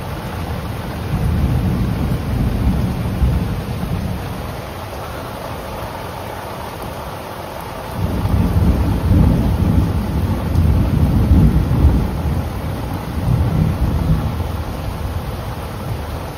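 A night thunderstorm during a pre-monsoon flood in Karjat brings low rolling thunder over steady rain, swelling loudest in long rumbles and never pausing.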